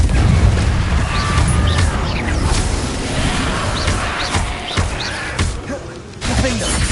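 Spell blasts and impacts from a Confringo fire spell in the wizarding combat game Hogwarts Legacy: several quick booming hits mixed with busy battle noise, with a voice speaking over them.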